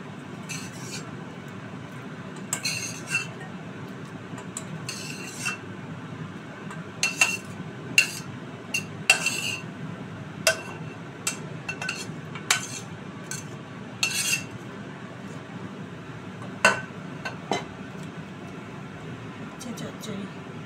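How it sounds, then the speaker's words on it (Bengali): Spoon clinking against a metal pot and bowl while bitter gourd curry (uchhe chorchori) is served into a small bowl, with sharp scattered clinks and scrapes over a low hum; someone talks throughout. "ছোট্ট একটা বাটিতে অল্প তো উচ্ছে চচ্চড়িটা নামিয়ে রাখছি"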